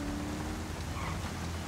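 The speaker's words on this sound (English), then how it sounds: "And it's raining, bro." Rain falling in the video game GTA 5 during a highway patrol scene, a dense steady hiss of rainfall with low rumbling underneath, loud and continuous with no talking.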